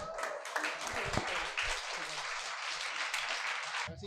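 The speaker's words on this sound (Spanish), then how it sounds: "Excelente aplauso líder." An audience at a motivational talk breaks into steady, dense applause lasting about four seconds, heard from a moderate distance and fairly soft.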